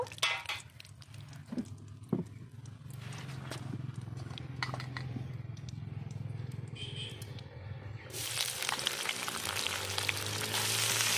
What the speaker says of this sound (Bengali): ওই তেলে দিয়ে দেবো আর একটু সর্ষের তেল। সোয়াবিনগুলো ভেজে নেব।